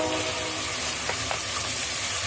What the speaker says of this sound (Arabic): السمنه مع الزيت سخنوا معايا، هنزل بالفراخ